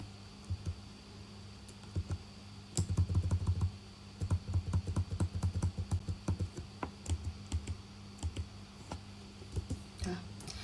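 Keys clatter on a computer keyboard in quick bursts of typing and clicks, with copy and paste shortcuts among them. The sound is close and fairly quiet, broken by short pauses, and no one speaks.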